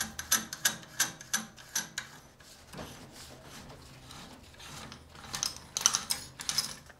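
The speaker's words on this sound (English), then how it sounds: "What I'm going to do is I'm just going to remove the lock rings here." Metallic ratcheting clicks in quick bursts as lock rings are worked loose on a bicycle rear shock clamped in a vise, close and crisp, with a quieter stretch in the middle before the rapid clicking returns.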